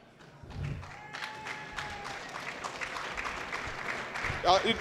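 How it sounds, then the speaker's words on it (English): A wrestling show crowd keeps up steady applause, a dense rustling wash of clapping that swells near the end, while a voice talks over it. "Do you care about that applause?"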